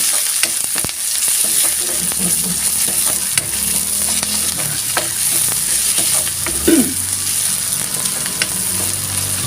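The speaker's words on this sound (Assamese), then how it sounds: "পিঁয়াজ দিলোঁ তেলত" Onions fry in hot oil with a continuous close sizzle, and a utensil stirs and scrapes the pan now and then.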